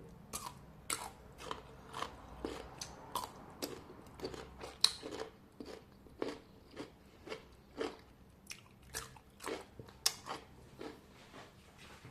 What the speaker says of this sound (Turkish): Hemen turşumu zevkle sizin için ısırıyorum.